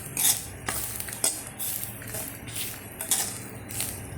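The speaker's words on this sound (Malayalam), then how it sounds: "ഇങ്ങനെ ഇളക്കി പോകൊണ്ടിരിക്കണം" A spoon stirs dry roasted coconut chutney powder in a pan, making rhythmic gritty scrapes and clinks against the metal with a faint sizzle underneath. The strokes come close and repeated, with no talking.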